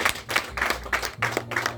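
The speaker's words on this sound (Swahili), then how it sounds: "Tupigie mama kofi moja" A church congregation claps together in several loud, rhythmic bursts, close and steady, with musical tones beneath.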